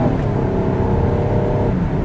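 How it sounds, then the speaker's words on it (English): A 2000 BMW 528i engine revs up as gas is given, a loud steady close-up mechanical roar with no voices. "Now I'm going to give it some gas"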